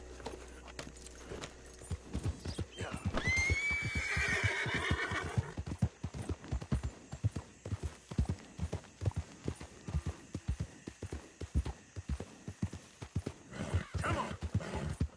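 A horse in Red Dead Redemption 2 lets out a loud whinny and then trots on, hooves clip-clopping in a steady, close rhythm with no voices over it.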